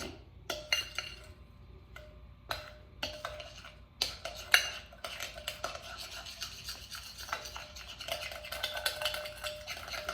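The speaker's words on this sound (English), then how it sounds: "mix these 2 things together before I add in my scent" A spoon stirs and scrapes a sugar scrub mixture of sugar and coconut oil in a bowl, quiet close clinks and gritty scraping strokes in an irregular rhythm, with no voices.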